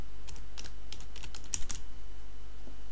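Quick typing on a computer keyboard, a short run of light, close clicks over a steady low hum, no talk.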